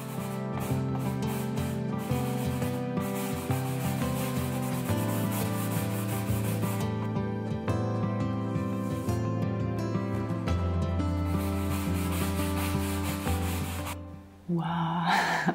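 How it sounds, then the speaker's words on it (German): A nail brush rubs turquoise and black acrylic paint across a canvas, making a continuous close scratchy scrubbing over steady background music that cuts off near the end. "mein Hauptwerkzeug wird heute die Nagelbürste sein"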